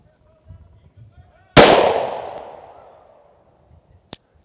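A Glock 43 pistol fires a single CCI 9mm shotshell round: one loud, close, sharp crack that rings out and decays over about a second, with only faint murmurs before it.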